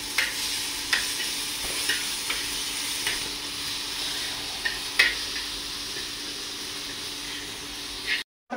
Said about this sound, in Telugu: దొండకాయ అయితే ఫ్రై చేస్తున్నాం మనమైతే ఇక్కడ